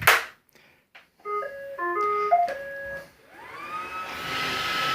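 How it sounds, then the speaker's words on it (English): A Roomba robot vacuum starting up on a futon plays a short stepped melody of electronic beeps, then its motor spins up into a steady, rising whir and rushing hum. "So, alright, we'll vacuum it off."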